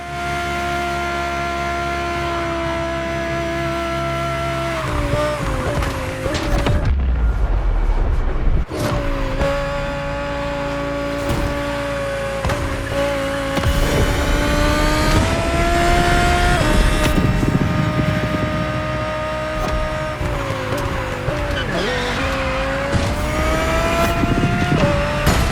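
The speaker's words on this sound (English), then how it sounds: "The 2020 Audi R8 LMS GT2." A 2020 Audi R8 LMS GT2, a Grand Touring race car built for the GT2 European Series, roars in The Crew Motorfest with a loud, sustained engine note that shifts pitch through revs and gear changes and briefly dips near seven seconds.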